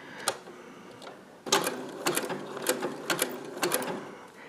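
A sewing machine stitches quilt fabric in short runs of rapid mechanical chatter, a brief burst first, then a steadier rhythmic sequence of stitches after a pause, close and fairly quiet with no talk.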